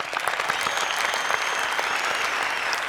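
Loud studio audience applause for a game show winner, with brisk, thick clapping sustained throughout the short stretch and no voices on top.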